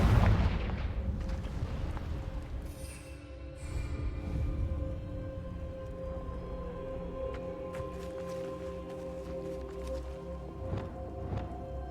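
Confringo fire spell blasts in Hogwarts Legacy, a run of booming impacts and crackling bursts layered over a sustained game music bed, loudest at the start with further sharp hits near the end.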